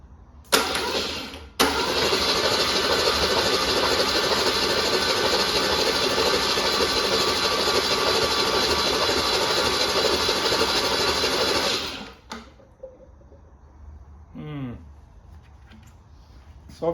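A Holden 161 red motor cranks over on the starter in one long, loud, steady whirring run for about ten seconds while fuel is pumped in, then stops, followed by quiet handling and a brief voice.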